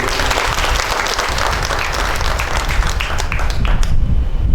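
An audience at an evening lecture event bursts into loud, sustained applause, a thick continuous wash of clapping from many hands that holds steady before thinning slightly at the end.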